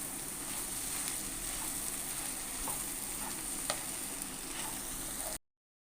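Egg kothu poori, torn pieces of fried poori mixed with egg, being stirred in a frying pan over a steady sizzle, with faint scraping and clinks from the spatula and no talk.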